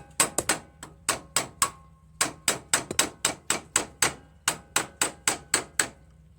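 Hammer blows driving a nail into a part of a Troy-Bilt MTD Pony Super Bronco lawn tractor mower deck, sharp metallic strikes in quick bursts of three to five with short pauses, close and loud.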